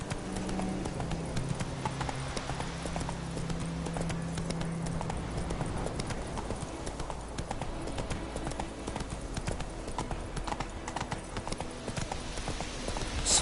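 Horse hooves clip-clopping steadily as a horse is ridden in The Witcher 3 video game, a continuous rhythmic trot over a constant background of game ambience, fairly close and without speech.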